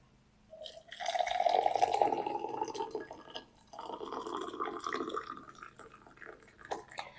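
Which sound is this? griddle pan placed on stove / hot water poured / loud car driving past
hot water poured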